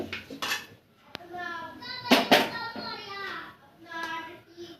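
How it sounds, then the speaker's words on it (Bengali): A metal wok is set down on the stove amid kitchen clatter: sharp knocks and scrapes of cookware, with a voice heard over the clanks. "কড়াই বসাই দিচ্ছি,"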